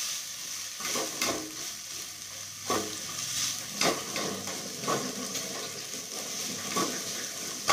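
Spiced egg bhurji mixture with red chilli being stirred and fried in a pan, a constant sizzle broken by repeated scraping strokes of a spatula, near and steady.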